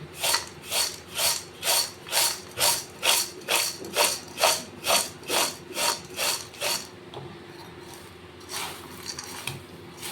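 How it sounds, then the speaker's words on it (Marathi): Fried poha chivda is tossed with salt in a large vessel, giving a steady run of about fourteen rhythmic dry rasping scrapes that stop partway through, leaving quiet rustling. "मीठ टाकून घ्यायचं, चवीपुरतं मीठ टाकायचं, चेक करून बघायचं वाटल्यास, आणि हे चांगलं मिक्स करून घ्यायचं."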